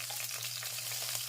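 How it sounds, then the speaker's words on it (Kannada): Green chillies fry in hot oil with cumin and peppercorns for khara pongal, giving a steady, close crackling sizzle over a faint low hum. "ಹಾಕಿ ಎಣ್ಣೆಯಲ್ಲಿ ಹುರ್ಕೊಳ್ಳೋಣ."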